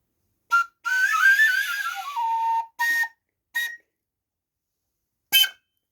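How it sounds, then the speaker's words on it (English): Wooden whistle blown in short bursts: a brief toot, a long warbling note that bends and falls, two quick blasts, then a final sharp peep, loud and close with silence between. "just a wooden whistle, but what power you get from that"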